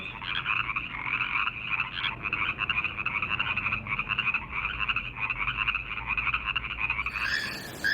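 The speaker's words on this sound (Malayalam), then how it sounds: "ട്രീ ഫ്രോഗ് മരമാക്ക എന്ന പേരിൽ അറിയപ്പെടുന്ന ഒരിനം തവളയാണ് മരത്തവള" Tree frogs croak steadily in the Amazon rainforest, a dense, continuous chorus of rapid pulsing calls that carries loud and close for the whole stretch, with no voices.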